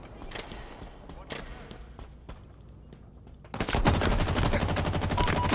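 Gunfire in Halo Infinite: scattered single shots crack sharply early on, then a dense, loud burst of rapid automatic fire takes over in the final two seconds.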